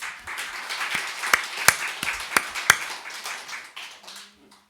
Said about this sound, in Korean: 박수 쳐봅시다.